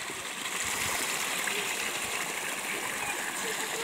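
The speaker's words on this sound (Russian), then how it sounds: "Вот, смотри, как вода падает." A small waterfall on a mountain stream spills over rocks, making a steady, close, broadband rush of falling and splashing water that continues without a break.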